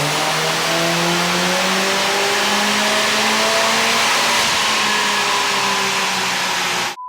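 A MK2 Golf 2.0 16V race engine on throttle bodies revs hard on a dyno, one loud sustained pull with rising harmonics for about seven seconds before cutting off abruptly.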